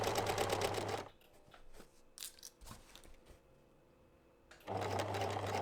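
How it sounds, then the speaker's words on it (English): A sewing machine stitches fabric for a reversible drawstring bag made from fat quarters, running loud and steady, stopping briefly for a quieter stretch with small handling clicks, then starting up again. "dial up the stitch length, make it as big as your sewing machine goes, and then keep stitching until you reach the second marking"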